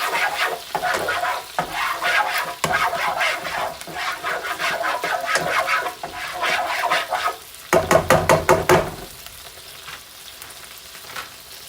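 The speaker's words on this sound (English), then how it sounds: "Get that garlic all stirred around in there." Garlic sizzles in a frying pan on a stove for herb-crusted pork chops in garlic butter, with steady frying crackle and repeated scraping stir strokes, ending in a quick run of clatters.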